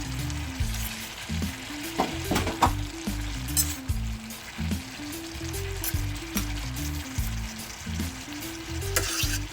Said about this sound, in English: So now I'm gonna add my peppers. I'm gonna add my garlic first.